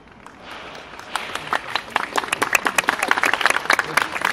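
Audience applause at a 2015 lecture in Istanbul, beginning faint and building into a crisp scatter of handclaps from a crowd in a hall.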